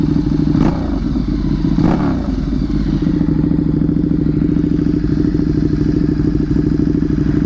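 A motorcycle engine runs loud and close, revving briefly with a couple of sharp throttle blips early on before settling into a steady, throbbing idle.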